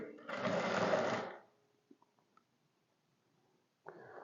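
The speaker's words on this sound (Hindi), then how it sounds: "यहाँ से आप सिलाई शुरू करें" A sewing machine stitches a neckline strip onto a shirt in one loud, close burst of about a second, followed by a few small clicks and a brief second run at the end.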